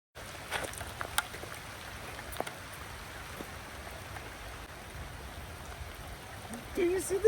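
Steady rain patters at Loch Raven Reservoir in Maryland, a soft continuous hiss scattered with small nearby drips and taps, moderately quiet, swelling slightly near the end.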